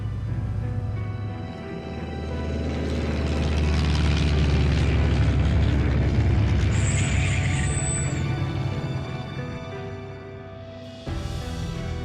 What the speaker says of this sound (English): After the one-hour journey, the aircraft lands at the Argentinian Research Station in Antarctica.